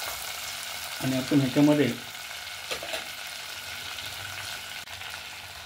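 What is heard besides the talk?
whole spices frying in oil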